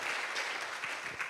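A congregation at an evangelistic crusade claps for the Lord, a short, dense spell of crowd applause heard at moderate loudness and fading slightly toward the end.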